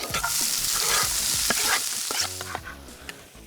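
Ingredients for a minced-meat sauce sizzle loudly in a frying pan, a steady hiss broken by scraping stirs and clinks, close up with no talking.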